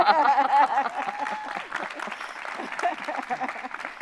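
Applause and clapping from an audience, with a burst of cheering and laughter at the start, steady clapping continuing throughout.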